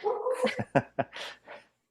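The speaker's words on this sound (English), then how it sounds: "I just heard your dog finally." A small chihuahua gives a rapid string of sharp, high yips and barks, five or six short bursts close by and moderately loud, then falls silent.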